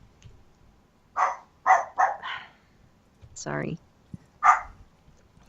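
A playful puppy barks and yips in a quick burst of four sharp barks, then a longer whiny yelp and one more bark, close by, with a person speaking briefly.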